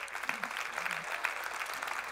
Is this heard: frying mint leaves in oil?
no